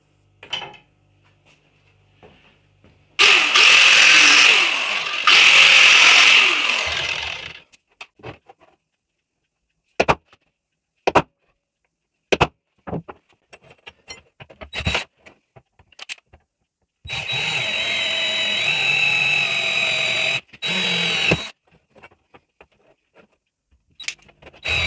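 Loud, dense whine of a Scheppach HS105 combination table saw and router machine cutting grooves into wood, in two sustained bursts separated by scattered clicks, knocks and handling noises in a workshop.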